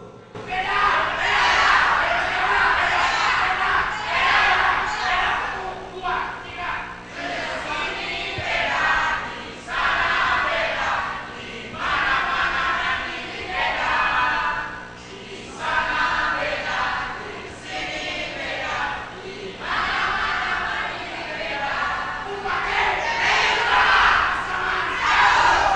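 Political supporters at a regional head election debate chant and yell their cheers in unison, a loud crowd roaring in rhythmic bursts that swell and fall repeatedly.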